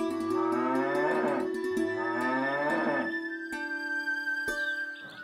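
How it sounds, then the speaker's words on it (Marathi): Bulls at a town market low in long, deep moos, two drawn-out calls followed by a third, close and loud with no talking. "त्यांना तिथे खूप बैल दिसले।"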